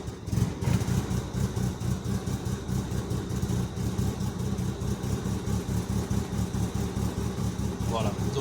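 A 2000 Opel 1.8 16v car engine, with a fault on the intake air temperature sensor circuit, cranks, starts and settles into a steady rhythmic idle, heard close, with a voice briefly speaking near the end.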